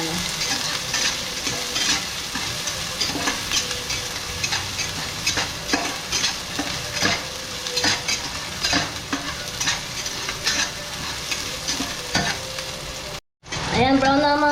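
Ginger, onion and garlic sauté until browned in a pan for a snakehead fish dish, a loud continuous sizzle punctuated by many rhythmic scraping stirs, ending in a brief cut and a fresh burst of frying.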